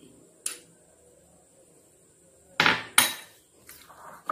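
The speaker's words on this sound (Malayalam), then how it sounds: "എല്ലാം കൂടി മിക്സ് ചെയ്യുകയാണ്." A spoon strikes and scrapes against a bowl while spices are mixed, a few sharp clinks and clatters separated by near silence, close and fairly quiet.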